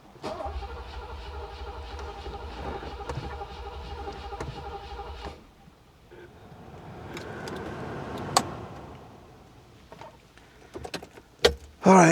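A Mercedes W126 with a weak battery cranks and catches, its engine running steadily for about five seconds before cutting out, followed by quieter rattles, clicks and a few sharp knocks nearby.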